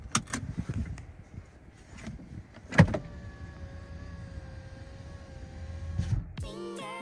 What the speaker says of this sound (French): Je mets les petits freins à main.